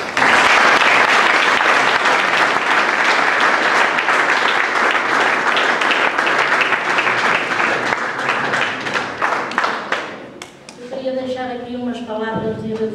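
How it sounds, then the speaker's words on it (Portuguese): A large crowd gives a long round of applause for two honoured people at a parish tribute ceremony, loud dense clapping that fades near the end as a voice begins speaking. "merecem uma grande salva de palmas"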